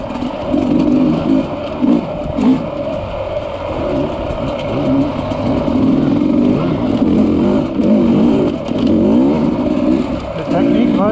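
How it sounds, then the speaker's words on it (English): An off-road vehicle engine on a waterfall trail revs steadily with repeated throttle blips, loud and close throughout, while voices talk over it. "Practicing your blips, Cade?"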